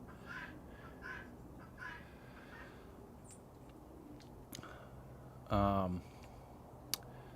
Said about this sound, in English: if you can hear that bird sound, that's the guinea fowl friend of ours, Wendy.